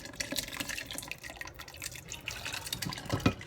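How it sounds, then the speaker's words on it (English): Homemade sweet and spicy BBQ sauce pours into a blender pot, a soft liquid splashing and trickling that swells near the end, close and fairly quiet with no talk. "I'm gonna pour it into the blender pot now."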